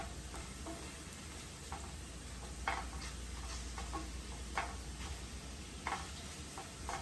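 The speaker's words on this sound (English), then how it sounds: "I'm gonna flip our shrimp over." Shrimp fry in a pan of honey garlic brown butter sauce with soy sauce, a quiet steady sizzle broken by a few soft taps as the shrimp are flipped, no voices.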